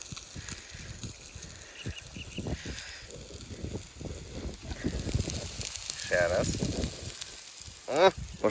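Food sizzles and crackles in a pan on a gas stove, the frying growing louder midway, with scattered clinks and a few voices in the background.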